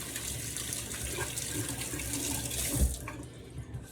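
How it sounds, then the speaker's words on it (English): A kitchen tap runs steadily into a sink while hands are washed, a continuous close splashing hiss with faint shifts as the hands move under the stream. "So I'm gonna wash my hands because my hands is full of this stuff."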